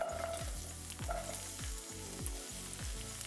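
Onions and celery sauté in olive oil in a pan, sizzling steadily while regular stirring strokes scrape through at a fast, even rhythm.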